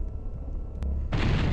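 A single gunshot or blast, followed by a broad, sustained roar of an explosion in the game DOOM 64; loud and close, with no talk over it.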